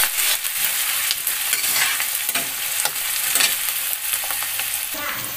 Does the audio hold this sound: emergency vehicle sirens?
no